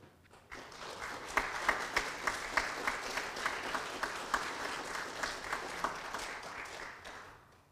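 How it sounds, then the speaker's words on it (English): A church congregation applauding a scholarship recipient during a Sunday worship service, sustained clapping with distinct individual claps, moderately distant and somewhat soft. "So it is with great pleasure that I present the Winslow Elliott Scholarship to Landon Brain."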